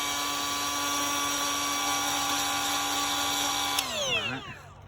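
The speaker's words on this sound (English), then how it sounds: "I had to grind that out because that was delaminating fiberglass" A high-pitched power grinder whines steadily while grinding out delaminated fiberglass on a jetski hull, then switches off and winds down with a falling pitch in the final second.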